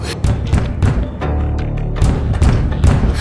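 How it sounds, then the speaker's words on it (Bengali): A heavy, deliberate banging on a wooden door as a sound effect in a ghost-story audio drama, several loud close thuds in irregular bursts. "দুমদাম করে আমার ঘরের দরজায় আবার দুবার প্রচণ্ড আঘাত হলো"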